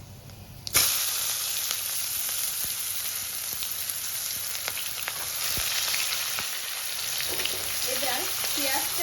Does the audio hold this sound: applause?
no